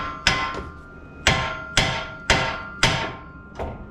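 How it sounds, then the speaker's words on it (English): A hammer strikes the steering knuckle of a 2017-19 Nissan Titan during rack and pinion replacement, five sharp metallic blows at roughly one-second intervals, each ringing briefly before the next. "Then I'm going to use a hammer and hit it."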